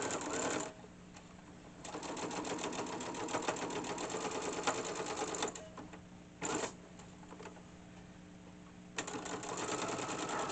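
Sewing machine stitching a patchwork pocket prayer quilt, fast even whirring stitch bursts of a few seconds each separated by quiet pauses, close and clear over a faint background hum.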